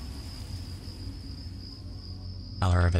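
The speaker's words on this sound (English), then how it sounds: "Oh my god, the bugs." Insects buzzing in Fallout, played through the Tale of Two Wastelands Capital Punishment mod: a steady, thin high-pitched drone over a low ambient rumble, cut off near the end by a sudden loud burst.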